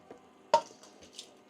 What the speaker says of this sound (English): So I'm just gonna add it to the pot and give it a nice good mix.